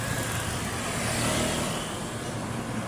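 Heavy midday traffic streams along the Maharlika Highway as a continuous broadband roar of passing cars and trucks with steady engine rumble and tire noise.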